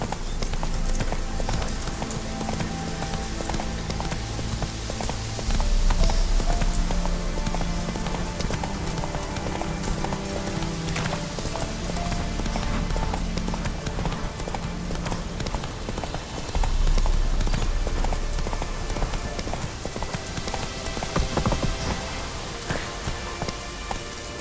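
Roach the horse galloping in The Witcher 3, a steady rapid clip-clop of hooves running continuously at close range over ambient game sound.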